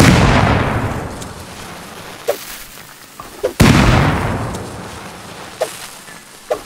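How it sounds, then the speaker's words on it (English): Two loud beancan grenade blasts from the video game Rust go off a few seconds apart, each a heavy boom that rumbles and fades, with small pops and clinks of debris in between. "Now we can toss a bunch of bean cans in there because it's like a big hole."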